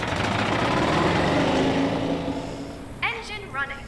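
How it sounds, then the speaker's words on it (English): An engine running in the VR game I Expect You to Die, a loud, steady rumble that dominates at first and fades down, with a short voiced sound heard near the end. "Engine running."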